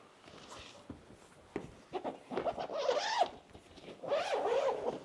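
An Easton archery soft bow case being unzipped close up, in several bursts of raspy zipper pulls that grow longer and louder toward the end, with no one talking.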